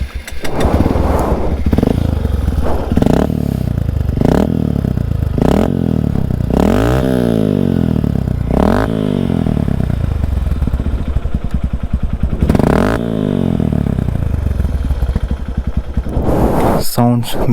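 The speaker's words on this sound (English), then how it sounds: "Sounds beautiful, this motorcycle." A Hero Impulse dual-sport motorcycle exhaust is revved repeatedly up close in rainy weather, a series of loud rising throttle blips over a rough idle, with a voice briefly speaking near the end.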